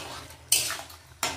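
Spoon or spatula stirring shrimp and bottle gourd in a cooking pan with mustard paste, heard as two short scraping strokes against the pan, close and clear with no talk.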